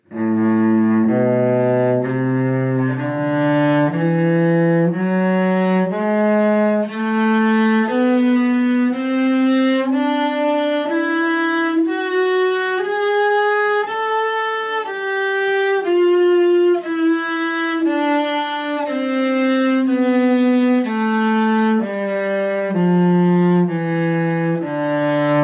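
A cello bows an A melodic minor scale in a slow, even line of sustained notes rising to the top and descending again, warm and close with no talking.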